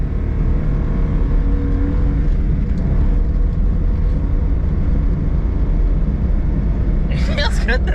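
Honda kei car engine pulling steadily in second gear, a loud continuous low drone of engine and road noise from inside the cabin, with a brief burst of rustling near the end.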